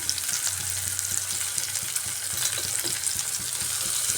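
Tomatoes with salt fry in a hot pan, giving a steady, close sizzle with faint crackles and a low hum underneath, no voices.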